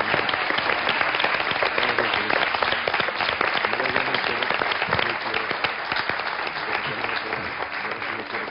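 Studio audience applauding on a television show, a dense, steady wash of clapping that stays loud and close throughout with little variation.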